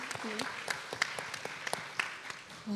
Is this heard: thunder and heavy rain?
no